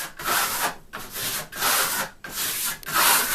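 A trowel pressing Venetian marmorino plaster onto a wall during the second coat, giving four long, loud, close scraping strokes separated by brief pauses.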